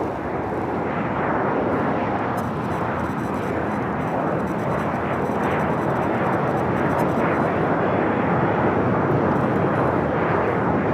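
A jet airliner landing at LAX, arriving slowly, fills the scene with a loud, steady broadband roar that holds for about eleven seconds, dense and continuous like a close pass.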